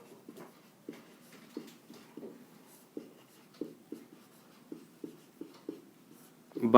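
A pen writes out a Class 10 maths solution on paper, making a quiet series of short scratchy strokes in an irregular rhythm, close and alone, with a louder knock at the end.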